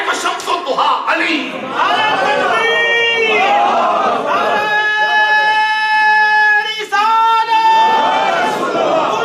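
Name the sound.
crowd chanting religious slogans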